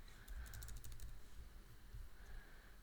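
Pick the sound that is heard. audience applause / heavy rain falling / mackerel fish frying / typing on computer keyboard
typing on computer keyboard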